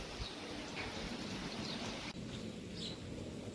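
Steady, soft rain falls at a farm during a downpour, a faint continuous patter with no voices.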